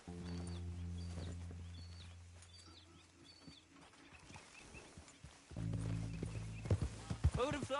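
Horse hooves clip-clop on the ground in the video game Red Dead Redemption 2, a rhythmic trot moving along under a sustained musical score, with birds calling and voices speaking at times.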